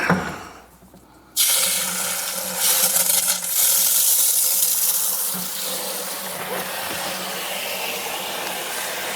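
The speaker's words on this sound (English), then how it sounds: "we have water coming down to the Prevo system, feeding our bucket filler, feeding our exterior" Water gushes through a hose into a bucket filler at a car wash, a sudden loud hissing rush that starts abruptly and then settles into a steady, slightly fading spray.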